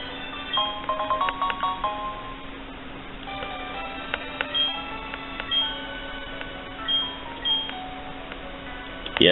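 Chiptune-style tones from Pokemon SoulSilver, a phone ringing in the game, repeat in short bursts over a steady low hum and soft game music, with no talking.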